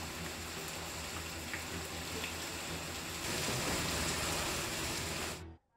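Heavy monsoon rain pouring in Majalgaon, Beed, a dense steady hiss of falling water that swells slightly louder partway through before cutting off abruptly, no voices.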